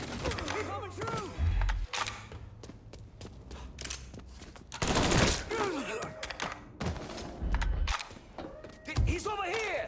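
Bursts of gunfire and sharp shots ring out during a firefight in the video game Mafia 3, scattered irregularly across the scene amid creaks, mechanical clatter and footsteps, with voices shouting at times.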